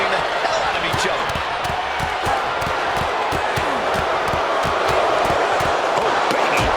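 Repeated forearm strikes and body impacts in the wrestling video game WWE 2K26, landing as sharp, evenly spaced thuds over a roaring arena crowd, with commentary voices talking throughout.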